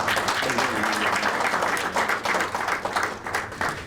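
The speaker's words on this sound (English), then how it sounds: "I'll ask you to give him a round of applause also." Sustained applause from a conference audience in a hall, dense steady clapping that fills the whole stretch at a fairly close, even level with no voices on top.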